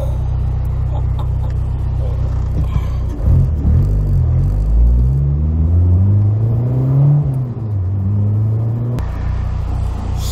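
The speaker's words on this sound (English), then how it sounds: "That car is freaking moving." A sports car engine revs hard under acceleration, its pitch climbing steadily through a gear before dipping and rising again, loud and close over a constant road rumble.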